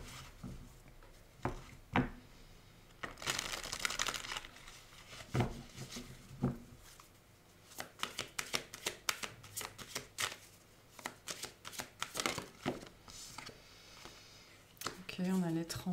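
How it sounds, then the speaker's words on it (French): Tarot cards are shuffled and drawn by hand, giving a run of crisp, close riffles, slaps and soft slides in irregular bursts, with a quiet voice at times. "Je vais juste tirer des cartes pour préciser ça."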